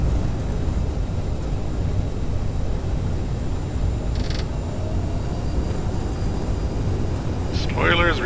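A CRJ 900 airliner on its landing rollout roars with a broad, steady rumble of engines and airflow, loud and unbroken, with faint mechanical creaks and a brief voice near the end.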